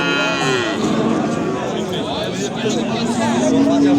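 Calves moo repeatedly at a busy livestock market in Kosonsoy, with steady crowd chatter and people talking throughout.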